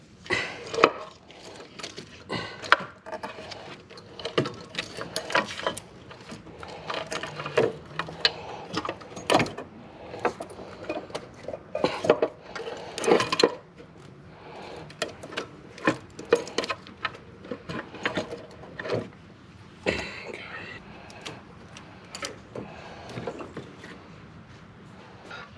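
Valve cover bolts being undone by hand on a 2008 Lincoln MKS engine, a run of quiet irregular metallic clicks, ratchet taps and scrapes, close-up and faint.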